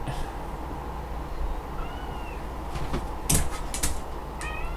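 A cat meows a few times indoors, short faint calls over a steady background hum, with a couple of sharp knocks or clicks nearby.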